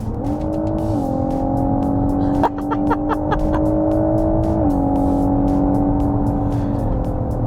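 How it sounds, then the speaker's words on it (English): A steady synthetic racing-car engine drone from a GWM Ora 07 electric car's sound simulator hums at a constant pitch, stepping up slightly in tone as it accelerates, with faint clicks over it. "this is set to make it sound like a racing car, so as I accelerate"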